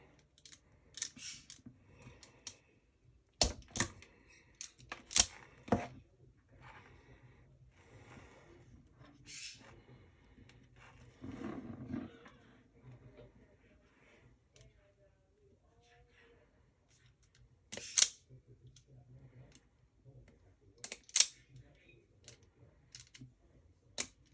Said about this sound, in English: We're going to strip the wires off and cut them nice and straight also.